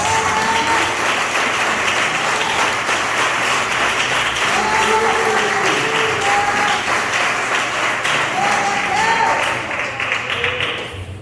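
A church congregation claps continuously and loudly for about eleven seconds, a dense wash of applause with voices calling out underneath, fading slightly at the end.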